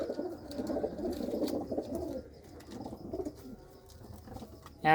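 Pigeons in a breeder's loft keep up a steady, overlapping low cooing murmur close by, easing slightly halfway through, with a sharp click right at the end.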